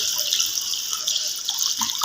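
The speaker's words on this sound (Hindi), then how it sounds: "4 कप पानी शामिल करेंगे।" Water pours steadily into a cooking pot as a rice dish with masoor dal is prepared, a continuous close splashing stream with no talk over it.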